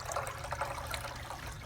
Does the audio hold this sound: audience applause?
no